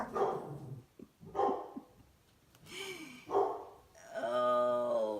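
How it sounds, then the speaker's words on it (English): A dog barks in several loud bursts spread across the moment, indoors at home, with strained, tonal yelps near the end as it keeps going, no one talking. "More barking."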